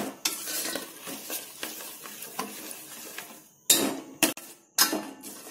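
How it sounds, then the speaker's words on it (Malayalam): A milk and sugar mixture for milk cake being stirred in a pan, with rhythmic scraping and sizzling, then several loud, abrupt metal clatters of spoon against pan near the end; close, no voices. "നന്നായി ഇളക്കിക്കൊണ്ടിരിക്കാം."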